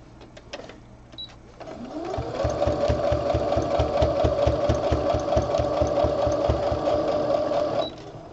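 A sewing machine runs steadily for several seconds, its rapid mechanical stitching and motor hum starting after a brief quiet lead-in and stopping near the end.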